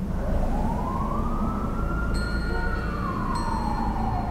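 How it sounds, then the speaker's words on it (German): Sirens in the video game Ghostwire: Tokyo, near a burning car: a wailing siren rises and falls over a loud low rumble, with a second electronic tone briefly chiming in midway. "Ich höre Sirenen."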